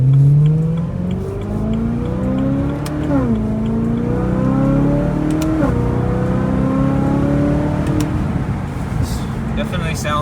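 A BMW E92 M3 with a stock exhaust revs up and settles, its engine tone rising and falling in smooth steps over steady road and cabin noise.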